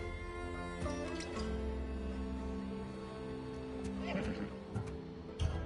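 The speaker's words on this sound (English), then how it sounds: "Little do you know that this is Hades' horse." Hades' horse in Assassin's Creed Odyssey lets out a long whinny over a steady game music score, with clip-clop hoof sounds and a snort near the end.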